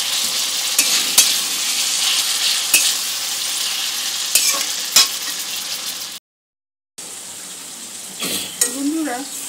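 Chicken pieces frying in a pan for chicken jalfrezi, a loud steady sizzle with occasional stirring scrapes and clanks, broken by a brief cut to silence before the frying resumes.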